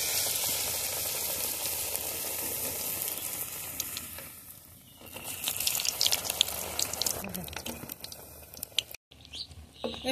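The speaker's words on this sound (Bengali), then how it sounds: "তেল গরম হয়ে গেছে, এখন আমি একটা একটা করে দিয়ে ভেজে নেব।" Pumpkin flower fritters fry in hot white oil in a kadai, giving a steady loud sizzle with crackling pops throughout, briefly dipping quieter midway before swelling again.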